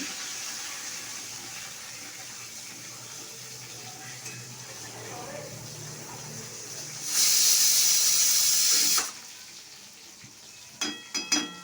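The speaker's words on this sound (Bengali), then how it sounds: "টমেটো কুচি দেওয়া হলো আবার একটু নেড়ে নিলাম" Chopped tomato sizzles in a pan while it is stirred, for a Bengali fish curry: a steady frying hiss swells into a louder burst midway, then fades as a few light utensil clinks follow.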